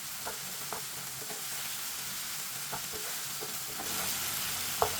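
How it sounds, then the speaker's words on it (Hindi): Okra (bhindi) fries in a pan while being cooked for a masala bhindi, giving a steady sizzle with occasional scraping stir clicks close by. No one speaks. "भिंडी को अच्छी तरह मिक्स कर लिया मैंने। अब इसे 4-5 मिनट के लिए पका लेंगे।"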